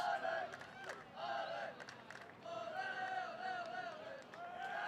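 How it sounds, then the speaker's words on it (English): Spectators at a Texas high school baseball game, Willis Wildkats against Conroe Tigers, cheer and holler in bursts, with shouting voices rising and falling over a low crowd murmur; fairly faint and distant. "Very good crowd on hand on both of these sides"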